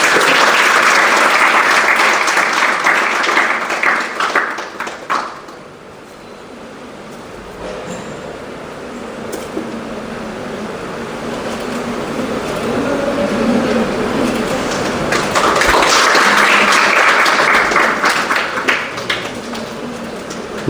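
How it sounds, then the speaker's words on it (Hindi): An audience at a workshop inauguration breaks into loud, sustained applause. The clapping dies to a quieter murmur midway and then swells again into a second full round near the end. "तालियों के साथ"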